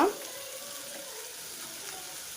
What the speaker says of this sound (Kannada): ತೊಂಡೆಕಾಯಿ ಹಾಕೋತಾ ಇದ್ದೀನಿ ಇವಾಗ